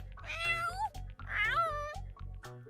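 Repeated cat meows from a video game, where the characters have been turned into cats; three drawn-out, rising-and-falling meows, close and clear, with a soft game background beneath and no speech.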